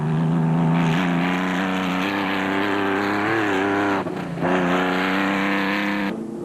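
A Nashua Mobile rally car races in the 2006 Nissan Dealer 400, its engine a loud, sustained near roar with shifting pitch, a brief dip in the middle, then a cutoff at the end.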